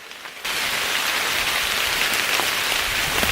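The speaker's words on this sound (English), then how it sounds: "And it's been raining all morning long." Rain falls on a backpacking trail after a wet morning, starting a little softer and then settling into a loud, dense, even patter of drops close around, with no voices.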